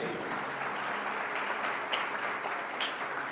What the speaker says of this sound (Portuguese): Você pode aplaudir Jesus, gente.